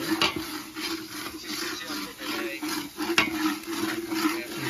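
Masala goes into a pan for butter chicken and is stirred, giving a continuous sizzle with scraping and a few sharp clinks of a spoon against the pan, fairly close.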